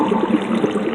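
Water poured from a bucket in a video game gives a steady, fairly loud running and trickling wash that lasts the full second without pause.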